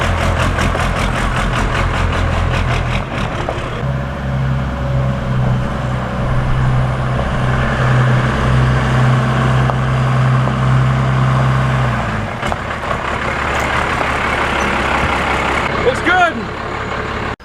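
Ford F350 with a Cummins diesel, its engine a deep steady rumble as the truck is driven into a garage, the low idle holding throughout with a brief rev near the end and a voice talking over it.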